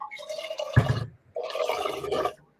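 Water poured into a soup pot in two gurgling, splashing bursts separated by a short pause, close and fairly loud with no talk.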